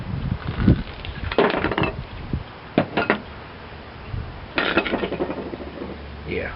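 A red-hot Vargo camping stove is flipped over with multi-pliers, making a few sharp metallic clinks and scrapes in short bursts close by, with no talking.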